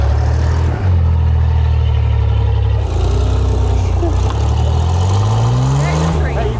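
A Ford truck engine runs steadily and loud up close, its low drone rising in pitch near the end as it revs while the truck drives out of a recovery spot, with people talking over it.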